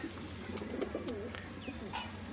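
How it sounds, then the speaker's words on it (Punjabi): Golden teddy pigeons coo softly and repeatedly at close range, low burbling calls over a quiet steady background hum, with a brief higher chirp near the end. "ਲਓ ਜੀ ਆ ਕਬੂਤਰ ਹੈਗਾ ਏ"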